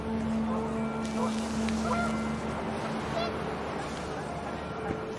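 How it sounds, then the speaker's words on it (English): Panicked geese honk amid wind in What Remains of Edith Finch, a short burst of honking heard under a narrator's voice. "and panicked geese appeared and quickly went"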